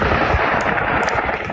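Rapid cracks of gunfire during a mass shooting in Las Vegas blend into a dense, continuous roar of noise, with a few sharper reports standing out, loud and constant throughout.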